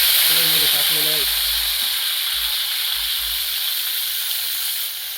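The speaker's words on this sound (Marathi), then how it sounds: "हे चिरून आणि धुवून घेतलेली वांगी आपण कढईमध्ये टाकलेले आहेत" Chopped, washed brinjal sizzling in hot oil in a wok, a loud steady frying hiss that fades slightly, with someone briefly speaking over it at the start.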